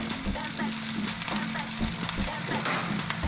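Rice with seeds and herbs fries in a pan, a continuous close sizzle with scraping and stirring clatter throughout, fairly loud and steady.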